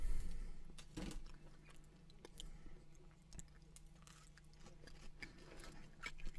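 Someone chews a toasted unfrosted blueberry Pop-Tart close up, with soft crunches and moist mastication sounds that are loudest at the start and continue irregularly, and no one speaks.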